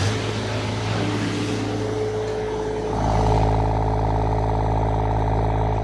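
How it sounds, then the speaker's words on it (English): Spartan VM1000 engine revving up, its sound dominated by intake noise rather than exhaust: a steady tonal drone that swells louder and richer about halfway through as the throttle is opened, with no talk. "It's actually got more intake noise than exhaust noise."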